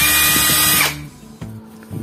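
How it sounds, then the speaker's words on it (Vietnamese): A cheap Hitachi impact wrench whirs loudly at close range for under a second, then stops, leaving a faint motor hum and small handling clicks. "Khoan thử xem"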